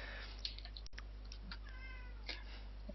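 A cat gives a drawn-out wavering meow midway, with a few faint clicks and taps scattered around it over a quiet low hum.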